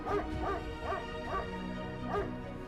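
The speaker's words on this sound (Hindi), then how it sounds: "मैं पहले कुत्ते के भौंकने से बहुत परेशान हो रही हूँ।" A dog barks in short repeated bow-wow bursts, about five of them, fairly loud and close over a steady background with no talking.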